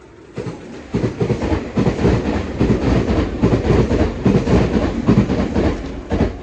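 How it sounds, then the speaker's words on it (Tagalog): A train passes close by in Japan, a loud, steady rumble with rhythmic clickety-clack of wheels on rail joints running throughout, no voices. "Pinalampas lang natin ang train"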